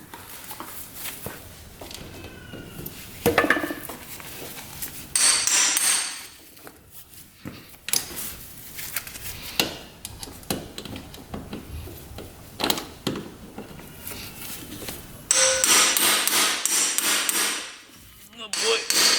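Sharp hammer blows ring out on a manual impact screwdriver working stuck bolts on a 2-stroke race quad, struck in irregular clusters with short pauses, loud and close.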